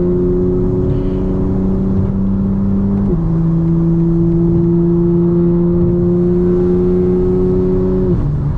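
A 2025 BMW M4 Competition engine drones loudly and steadily from inside the cabin while driving, holding a constant tone, then shifting to a lower pitch near three seconds and dropping again just before the end.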